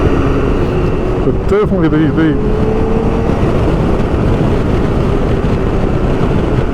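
BMW K1600 GT motorcycle with an upgraded ECU, its engine droning steadily throughout with a short burst of blipping revs on downshifts early on, a voice talking briefly over it.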